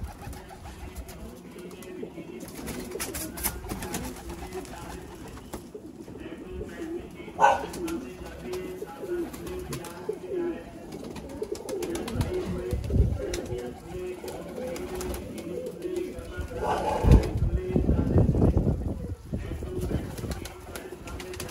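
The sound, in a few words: teddy pigeons cooing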